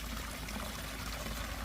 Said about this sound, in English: this pond, you see so many waterfall